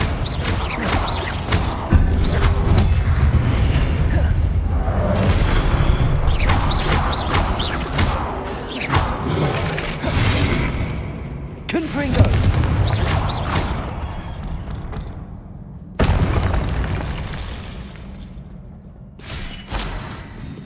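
Repeated Confringo spell blasts in the video game Hogwarts Legacy, loud booming explosions and impacts mixed with crackling effects and mechanical clatter, bursting irregularly over about twenty seconds with no talk.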